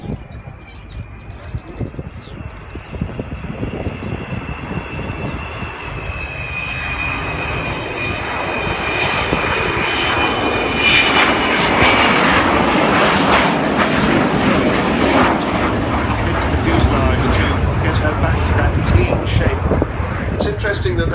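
Avro Vulcan XH558 delta-wing bomber passing at an airshow on a landing-style approach, a loud jet roar that swells steadily, with a rising whine early on and a broad rumbling howl at its peak; people talk nearby.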